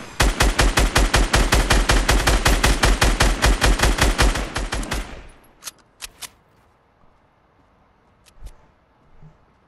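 Sustained rapid automatic gunfire in a video game, a long loud burst of evenly spaced shots for about five seconds, then a few isolated single shots and quieter scattered pops trailing off.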